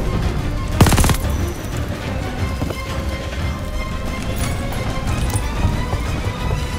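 Rapid bursts of gunfire in the Call of Duty Vanguard train mission to Hamburg, a loud volley near the start followed by scattered shots and booms over a constant rumbling train din.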